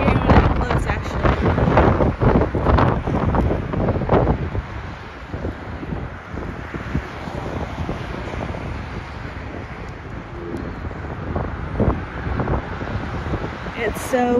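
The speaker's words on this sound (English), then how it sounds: "So windy up here." Strong wind buffets the microphone in heavy, rumbling gusts, steady throughout with brief surges.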